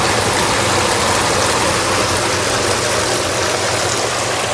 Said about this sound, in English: you're going to get a little more noise here because of the sprinkler head running